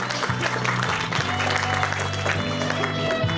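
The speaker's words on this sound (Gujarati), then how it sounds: "આપણે સર્વે આ તાળીઓના ગડગડાટ સાથે મહેમાનશ્રીઓના સ્વાગતને વધાવીશું" Audience applause welcomes guests at a civic ceremony in Bhavnagar, a dense continuous clapping heard with a steady background hum from the hall's sound system.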